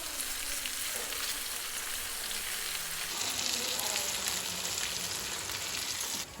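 Masala sizzles and fries in a pan for brinjal biryani, a continuous hiss with occasional stirring scrapes, close and steady with no talking.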